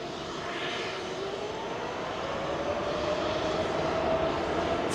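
Airliner jet engines spooling up to takeoff thrust in a flight simulator departing Heathrow runway 27L, a continuous rushing roar with a rising whine that grows steadily louder.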